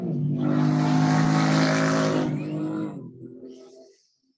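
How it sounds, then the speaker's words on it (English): A loud motorcycle roars past close by, its engine swelling to a sustained blare for about two seconds before fading quickly into the distance. "Yeah, nice motorcycle right there."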